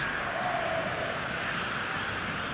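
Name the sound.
stadium crowd noise in eFootball video game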